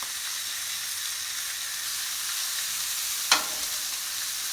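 Pounded chuck blade steaks fry in a hot pan with a steady, even sizzle that carries throughout, and one brief sharper crackle pops near the end.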